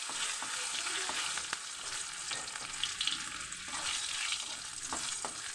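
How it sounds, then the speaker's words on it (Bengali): Steady sizzling of garlic cloves frying in hot oil in a wok, with occasional scrapes and clinks of stirring, close and continuous. "দেখো কড়াইতে তেল দিয়েছি তেলের মধ্যে কয়েক কোয়া রসুন দিয়ে দিলাম"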